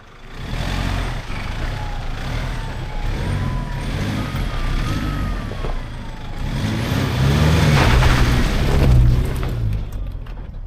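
A Mercedes Sprinter van fitted with a lift spring kit climbs uphill off-road, its engine droning steadily and swelling louder toward the end, with rumbling low-end vibration and no talk.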